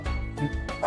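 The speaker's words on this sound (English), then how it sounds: "I can hear the other dogs in the neighborhood barking" Neighborhood dogs bark in the distance, a few muffled barks spread across a short moment with faint background hum and no talk.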